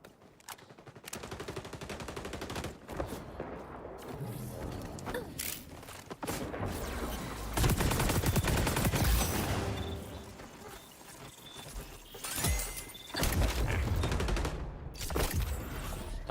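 Sniper rifle gunfire rings out in a first-person shooter game, single sharp shots and booming reports scattered over a dense mix of game effects and ambient noise.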